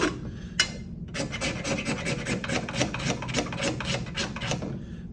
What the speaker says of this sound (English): So you can just take the backside of your knife and scrape off a lot of this.